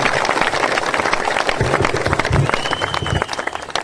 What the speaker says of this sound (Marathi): त्या माय माऊलीचं आपण सर्वांनी टाळ्या वाजवून अभिनंदन केलं